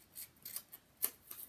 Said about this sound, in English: So I'll just follow the outline of the tag and cut off the extras.